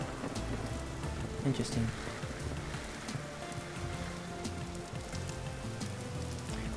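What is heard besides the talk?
rain falling in the video game Vintage Story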